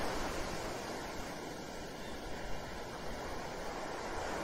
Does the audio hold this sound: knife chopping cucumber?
no